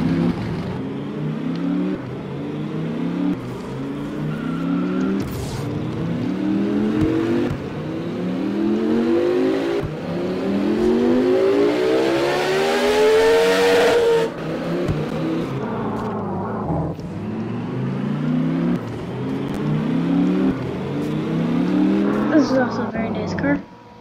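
Dodge Viper engine in the Roblox vehicle simulator game, revving and accelerating through repeated rising and falling sweeps with brief pauses between runs, loud and close for about twenty-four seconds.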